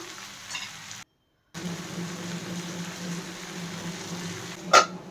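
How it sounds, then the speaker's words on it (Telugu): Chopped coriander leaves fry in a little oil in a kadai for a tomato-coriander chutney, giving a steady close sizzle that cuts out briefly, resumes, and ends with a sharp utensil clink. "అదే కడాయిలో కొద్దిగా నూనె వేసుకొని ముందుగా కట్ చేసి కడిగి పెట్టుకున్న కొత్తిమీరను కూడా వేసుకోవాలి"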